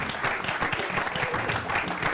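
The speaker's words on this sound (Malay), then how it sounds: "Ayo seluruh yang berada dalam studio ni kita berikan tepukan gemuruh" A studio audience breaks into dense, continuous applause, close and even throughout, with a faint voice underneath.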